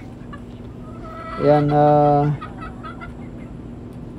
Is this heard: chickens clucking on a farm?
yes